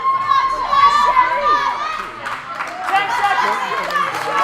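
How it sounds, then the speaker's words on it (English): A crowd at a 2015 Dover weightlifting competition cheers and shouts encouragement to the lifters. Many overlapping voices rise and fall in a busy, lively roar, with some clapping mixed in. "The crowd rooting everybody on."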